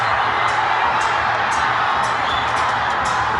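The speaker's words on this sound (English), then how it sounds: "The crowd obviously not happy with that foul." A large crowd at a Bhutan versus Sri Lanka World Cup qualifier football match roars steadily in displeasure after a foul, a dense, continuous wash of distant voices with no single shout standing out.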